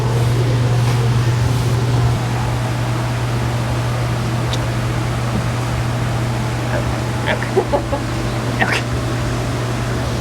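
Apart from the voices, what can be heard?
fan blowing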